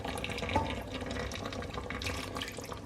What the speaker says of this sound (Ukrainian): Додаю трошки ще підсоленої води, щоб було в чому тушитися.